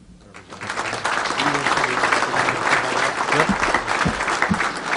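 A crowd at a Rockford public event with the Illinois governor applauds a state representative and former police officer, dense sustained clapping that swells quickly and stays loud, with a few voices mixed in.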